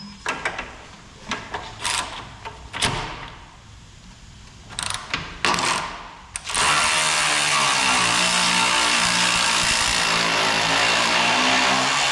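A ratchet wrench works on the rear shock of an 07-18 Jeep Wrangler, giving close, loud bursts of mechanical clicking and clanks in the first half, then a sustained loud powered whir takes over.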